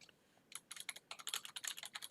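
Rapid keystrokes on a computer keyboard as a stock ticker symbol is typed into a trading chart platform, a quick burst of close, crisp clicks after a brief quiet start, with no voices.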